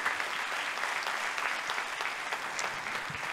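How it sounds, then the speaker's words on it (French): Audience at a political meeting applauds Doris, a steady, even wash of clapping from many hands, moderately distant and sustained the whole time with no voices over it. "Je vous propose d'applaudir Doris"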